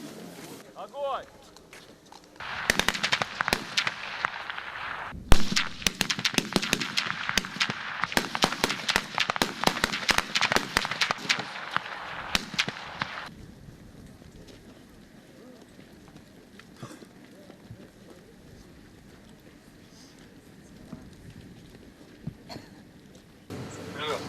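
Rapid bursts of gunfire crackle for about ten seconds, sharp and fairly close, with voices in the background, then quieter ambient noise follows.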